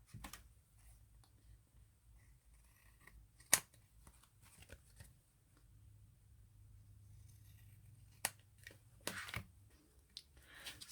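Scissors cutting paper while making a mini tri-fold accordion ephemera folder, a few faint, sparse snips and slicing strokes against a quiet background, one sharper snip standing out.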